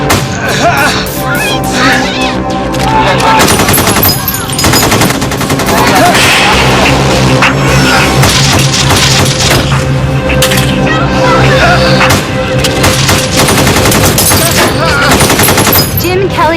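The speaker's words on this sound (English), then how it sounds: "What you hear behind me is not coming from a movie set. It is actual gunfire." Sustained bursts of real automatic gunfire during a bank robbery shootout in North Hollywood, loud and continuous, with rapid cracking volleys and echoing booms throughout.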